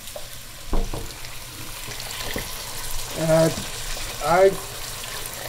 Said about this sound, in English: It's a time to add the hot water to it.